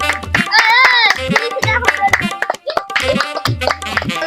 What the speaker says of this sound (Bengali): হাততালি দাও সবাই মিলে একটু